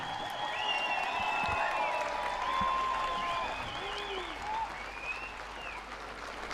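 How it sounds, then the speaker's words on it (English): A crowd applauds steadily at a meeting of Pope Francis with Indigenous people in Maskwacis, Alberta, clapping and whistles blending into a dense wash that slowly fades over several seconds. "let's give everybody a round of applause"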